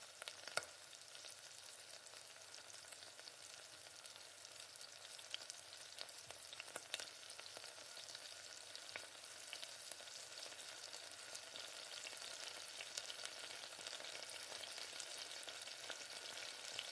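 Masala sautés in a pan for mutton dum biryani, a steady, soft sizzle and fry with occasional stirring scrapes, continuous and fairly faint with no voices.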